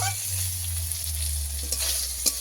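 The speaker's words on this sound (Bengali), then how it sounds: "বেগুনটাকে আমি ভালো করে ভেজে নেব।" Eggplant pieces rubbed with salt and turmeric sizzle steadily in hot oil, a close, even crackle with a few small pops over a faint low hum.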